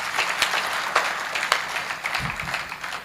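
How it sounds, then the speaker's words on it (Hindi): Applause from an audience at a Hindi poetry recital (kavi sammelan) as a poet begins, a thin, uneven patter of hands with a few sharper claps, moderately distant and short. "एक बार तालियां बजाइए, मैं प्रारंभ कर रहा हूं"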